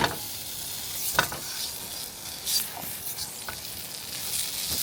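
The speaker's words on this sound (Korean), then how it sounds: "햄 굽는 소리가 식욕을 자극하네요." Steady crackling sizzle of ham frying in a pan, close and continuous, with occasional louder pops and spatters.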